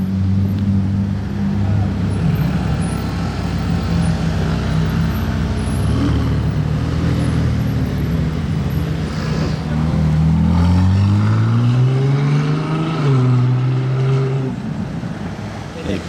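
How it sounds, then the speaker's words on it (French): A McLaren Senna supercar on the streets of Monaco, its engine a loud, deep, steady rumble that rises in pitch as it accelerates nearby, mixed with general street noise. "Deuxième McLaren Senna du jour"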